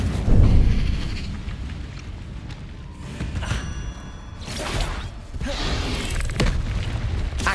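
Incendio fire spells cast in Hogwarts Legacy, a heavy whooshing burst at the start followed by rushing flame bursts and thuds that swell and fade across several seconds.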